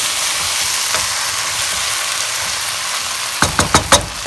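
Chili paneer frying in a pan gives off a steady, loud sizzle, then four quick scraping stirring strokes sound close up near the end.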